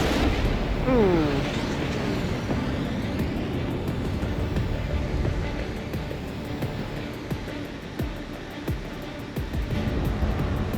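A missile fired from a fighter jet in the Ace Combat 7 flight game roars away under steady, loud engine rumble. A brief rising whistle sounds early, and dull booms follow later.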